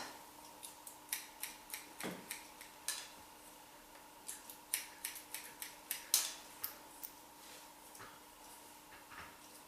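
Scissors point-cutting hair for a short wispy cut, a quiet, close series of crisp snips in irregular bursts, with no talking.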